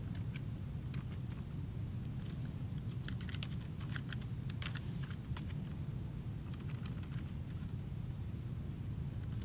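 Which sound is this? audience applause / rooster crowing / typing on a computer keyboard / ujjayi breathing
typing on a computer keyboard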